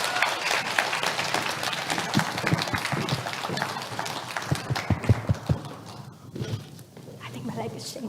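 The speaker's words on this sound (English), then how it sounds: "Round of applause, Thank you, everyone." Audience applause at a TEDx talk fills the room, dense and sustained clapping from a large crowd that swells with sharper individual claps before tapering off near the end.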